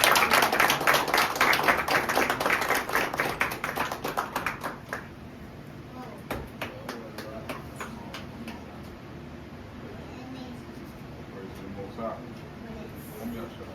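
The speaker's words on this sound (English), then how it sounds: "let's clap it up one more time for all the brothers" A congregation at a Passover service claps for the brothers, a loud, fast run of hand claps for about five seconds that fades into scattered claps and low room sounds.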